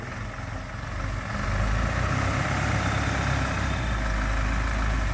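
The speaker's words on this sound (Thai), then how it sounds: "ฟังจากเสียงรถรถครับรถนี่เสียงบ่ดังครับ" A Sumitomo SK75-8 excavator engine idles at a low, steady rumble, close by and continuous, swelling slightly in loudness after the first second.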